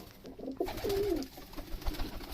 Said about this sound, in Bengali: আর এটা হলো আমার কবুতরের বাসস্থান